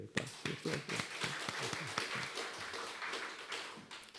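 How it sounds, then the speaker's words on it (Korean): Clapping from a small church congregation during a Sunday service, fairly faint and close, with distinct irregular hand claps at first that blur into a softer patter. "우리 한 박수 한번 칩시다."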